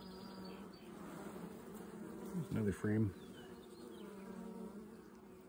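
Honey bees buzz steadily around an open hive frame during a nectar flow, a low continuous drone close by, while someone speaks briefly in the middle.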